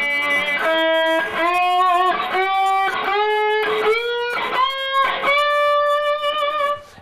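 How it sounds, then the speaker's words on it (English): Guitar working up a major scale on a single string using bends, each note picked then pushed up in pitch, about seven evenly spaced notes rising, clear and close with nothing else heard. "is to do a simple major scale on one string"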